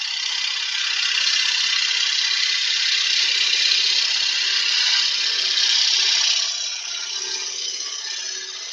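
A gouge cuts a shallow pine bowl on a wood lathe, giving a steady, close hiss and scrape that runs unbroken for several seconds before easing off slightly.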